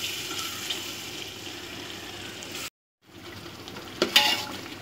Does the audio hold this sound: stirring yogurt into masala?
yes